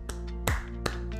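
A single sharp hand clap, close and fairly loud, with short snap-like transients before and after it, all over a steady humming musical background.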